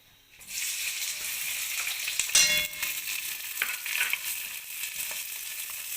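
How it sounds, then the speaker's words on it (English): Chopped onion sizzles and fries in hot oil in a karai already holding a bay leaf and slit red chili, a steady loud hiss with brief stirring scrapes and crackles partway through, with no talking. "So onion needs to be fried properly, so I'll just put in the onion and fry it for some time"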